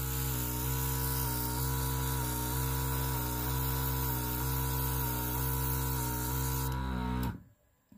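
Airbrush spraying nail alcohol ink onto nails, a steady close compressor hum and hiss running unbroken for several seconds before cutting off abruptly.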